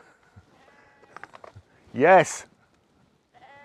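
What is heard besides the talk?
sheep bleating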